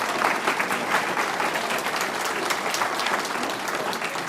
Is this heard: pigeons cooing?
no